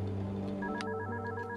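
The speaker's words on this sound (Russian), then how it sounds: "Мне кто-то звонит." Phone ringtone for an incoming call during a Five Nights at Freddy's Ultra Custom Night game, a steady repeating electronic tone pattern over a droning game background, with no talk.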